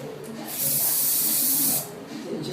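A long, loud hairspray hiss lasting about a second, sprayed upward onto a fringe, preceded and followed by quieter rustling; a short spray burst follows at the end.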